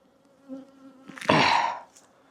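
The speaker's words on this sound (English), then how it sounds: "the lid on the nuke box where all these bees are angry" Angry honeybees in a nuc box, a dense buzzing swarm swelling loud and close for about a second after a quieter low hum, then fading away.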